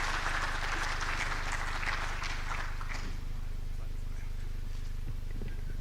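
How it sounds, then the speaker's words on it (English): An audience claps at a conference opening ceremony as a speaker walks on stage, with a dense burst of clapping that is strongest in the first three seconds and then fades under a steady low hum from the hall's sound system. "Let's clap for him as he comes on stage."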